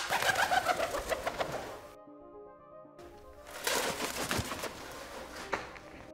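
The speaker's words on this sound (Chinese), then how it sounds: "鸽子和游隼飞的时候啊，发出的噪音非常明显啊，每次扇翅膀都产生一段强烈的声波" Pigeon flying past a row of microphones in a flight-noise study, its wingbeats giving a rapid, steady train of loud flapping pulses, a short pause, then another burst of close flapping.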